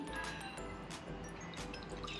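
Water poured from a mug for making spiced punch tea, a continuous close liquid splash and trickle with faint clinks, moderately quiet, with no talking.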